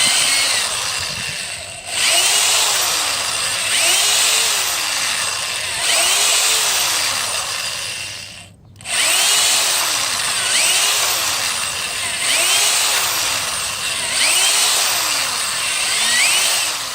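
A drill bores holes in a stuck car door, running in repeated loud bursts with rising and falling motor pitch as the bit bites the metal, with short pauses between holes.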